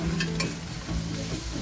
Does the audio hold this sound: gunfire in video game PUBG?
no